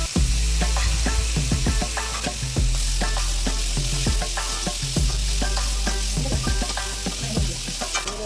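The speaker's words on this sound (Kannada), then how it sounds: "ಈರುಳ್ಳಿ ಫ್ರೈ ಆದ ನಂತರ ನಾವು ಜೊತೆಗೆ ಟೊಮೆಟೊ ಹಾಕೊಂಡು ಫ್ರೈ ಮಾಡೋಣ." Onion and tomato fry in a pan for hotel-style egg masala, with a loud continuous sizzle and frequent close spatula scrapes and knocks across the whole stretch.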